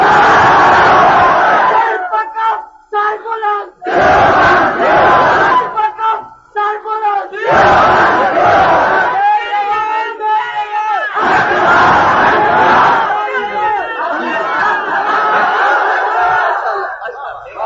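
A crowd at a religious gathering with a cleric in Khan Pur chants slogans loudly in repeated bursts. Rhythmic unison cries rise and fall, with short pauses between the waves of voices.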